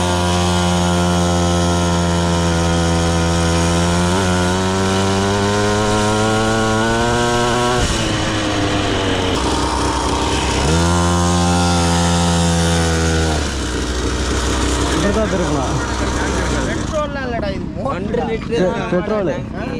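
A small petrol mini bike engine, about a one-litre tank, buzzes loudly and close, pitch rising and falling as it revs and eases off, with voices talking throughout and a rougher, noisier stretch near the end.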